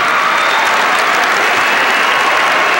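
A high school wrestling crowd at the 2008 New Jersey state individual championships rises in a standing ovation, dense sustained applause and cheering filling the arena, steady and loud throughout with no talk over it.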